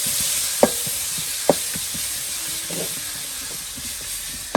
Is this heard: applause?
no